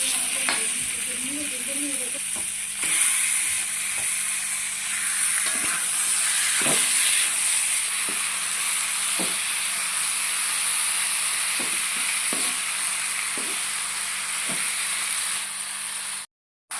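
Chicken pieces sizzling and frying in a hot pan for a chicken curry, a steady close hiss with scattered crackles and brief stirring knocks throughout, no talk.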